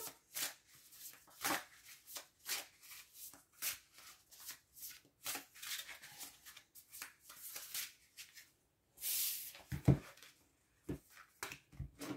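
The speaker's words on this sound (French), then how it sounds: "Je vais remélanger derrière." Arthurian tarot cards being shuffled by hand, a series of quick papery riffles and soft slaps in irregular bursts, close and quiet with no talk.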